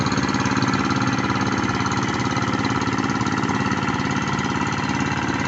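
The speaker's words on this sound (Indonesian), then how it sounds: "Dengan traktor tangan," Close and loud, a two-wheeled hand tractor chugs without pause out in a rice field, its rapid pulsing beat holding even throughout with no speech.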